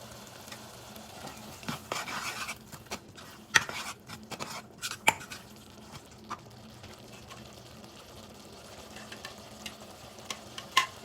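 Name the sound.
vegetables sautéing in a pan for Manchow soup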